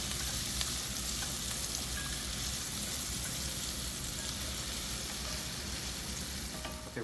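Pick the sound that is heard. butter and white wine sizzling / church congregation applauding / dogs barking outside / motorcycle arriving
butter and white wine sizzling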